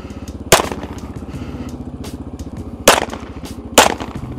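Three sharp handgun shots ring out from a rider on a moving motorcycle, spaced irregularly over a steady engine drone, loud and close with brief decaying tails.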